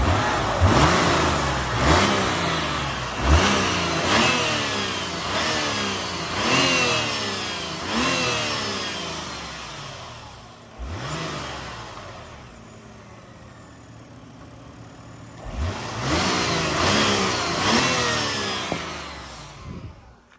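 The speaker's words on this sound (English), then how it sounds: "rev it up from the inside here a little bit so you can hear a little higher RPMs" A 2011 BMW 328xi engine is revved repeatedly from the driver's seat, each sharp climb to higher RPM falling back to idle in a regular rhythm, with a quieter idling stretch in the middle before the revs resume.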